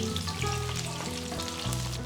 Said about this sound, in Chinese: 倒油，用中火把葱段搁进去，要煎熟煎透